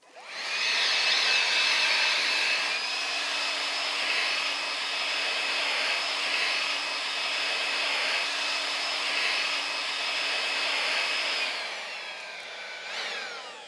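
A battery-powered Makita 36 volt leaf blower runs continuously with a loud, airy whine and rushing air, holding steady for most of the stretch before spooling down near the end, with no talking.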